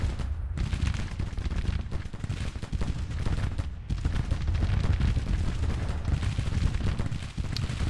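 Artillery batteries in Grand Tactician: The Civil War boom in dense, overlapping volleys during the Battle of Nashville, a continuous rumbling roar of cannon fire with no talking.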